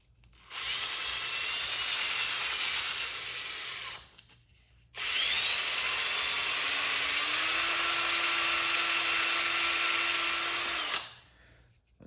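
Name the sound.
drill running in reverse with 60 grit sandpaper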